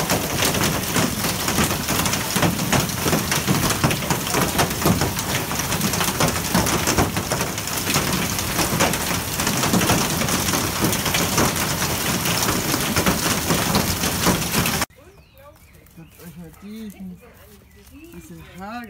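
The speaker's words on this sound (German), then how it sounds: "ihr seht, das Wetter hat sich heftig geändert, es stürmt und regnet" Heavy rain and hail pounding down in a storm, a dense, loud, continuous clatter for about fifteen seconds before it cuts off abruptly, followed by a quieter stretch with speech.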